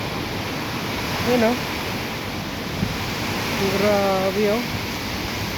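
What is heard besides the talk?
strong wind and rain during a storm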